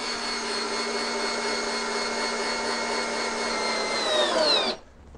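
Power drill driving 5 x 60 screws into a wooden Zander beehive box: a steady, loud motor whine that holds for several seconds, then winds down in pitch and stops abruptly.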